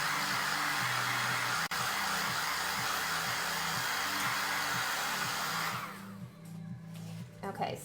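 A hair dryer blows steadily and loudly across chalk paint on a herb-themed piece, a continuous airy whoosh that cuts off near the end, leaving quieter room sounds.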